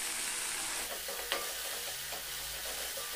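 Water hitting a hot pan of frying tomato and salt, a steady broadband sizzle and hiss with a few soft stirring clinks, close and continuous with no talking.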